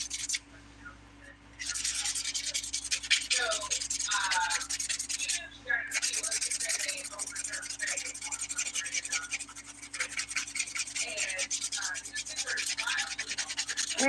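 A 180 grit nail file rubs back and forth across fingernails in quick, close, scratchy strokes that repeat steadily, with a brief pause near the start and another in the middle, and nobody speaking.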